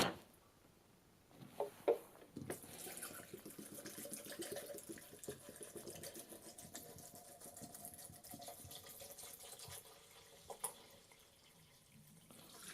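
Tap water runs steadily to wash Kodak slide film, giving a continuous close hiss with a few knocks and splashes at the start and some faint clatter along the way.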